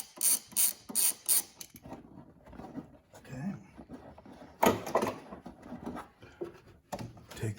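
Ratchet turning a Torx 30 screw on the purge valve of a Chevy Captiva 3.0 engine, close quick clicking bursts at the start and again midway, with handling and rubbing noises between.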